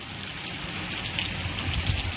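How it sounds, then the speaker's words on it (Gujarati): Heavy rain pours down in Porbandar, a dense, even hiss of drops striking surfaces that holds steady and loud from start to finish. "વરસાદ જામ્યો છે જોરદારનો."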